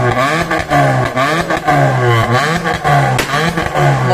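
A Suzuki Swift with a valvetronic exhaust, valve open, revs hard in repeated loud bursts, the engine note rising and falling sharply several times up close.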